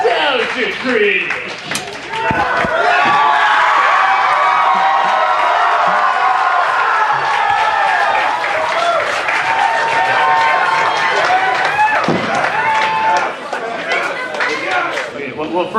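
A live audience greets a film reviewer with sustained loud applause, cheering and whoops, a dense roar of clapping throughout with voices mixed in.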